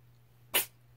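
A single short, sharp human sneeze bursts out once against a quiet background.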